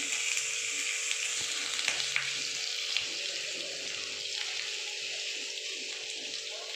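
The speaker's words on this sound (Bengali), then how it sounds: "তেজপাতা দিলাম, আদাটা দিয়ে দিলাম। আদাটা 1-2 মিনিট আমি নেড়ে নিই।" Ginger and bay leaves frying in oil in a pan, a continuous soft sizzle with occasional light scrapes and taps of a spoon stirring, fairly quiet and close.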